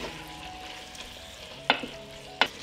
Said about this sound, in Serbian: Sve ću to promešati i propržiti zajedno 1 minut.